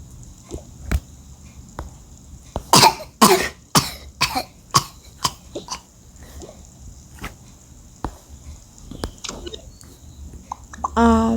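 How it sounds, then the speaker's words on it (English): A child coughs repeatedly, several sharp close bursts in quick clusters followed by scattered single coughs, amid quiet background and brief voice sounds, in a playful roleplay setting. "Was that his coughing?"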